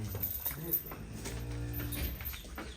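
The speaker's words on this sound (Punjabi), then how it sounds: "ਲਓ ਜੀ ਗਾਂ ਵੀ ਪੂਰੀ ਵੱਡੀ" A large dairy cow that has recently calved for the third time lets out one drawn-out low moo midway, close by, over background voices and farmyard noise.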